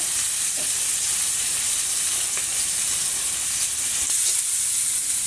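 Green chilies, onion, garlic and cumin frying in hot oil for a fish-head dish give off a steady, even sizzle and hiss that carries through without a break, close and alone, with a few faint clicks from stirring.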